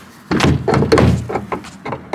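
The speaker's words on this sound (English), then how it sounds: "so you have to slam the door and lift it up and push it in at the same time" The sliding side door of a well-worn VW T4 van with broken door parts is slammed and forced shut, giving a heavy thud followed by a few rattling knocks and clunks, close up.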